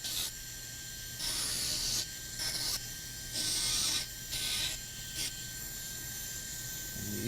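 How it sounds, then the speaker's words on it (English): Dental burs on a handpiece grind the edges of an acrylic custom tray in several short bursts of hissing abrasion over a constant high whine, close up. "just use these burrs and trim the peripheries till they're nice and smooth, not jagged or rough"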